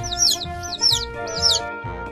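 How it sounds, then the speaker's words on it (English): A chicken clucks in three short bursts near the mic, each call a quick run of rising squawky notes, spaced evenly over a steady tonal backing. "Pollo, chicken, pollo,"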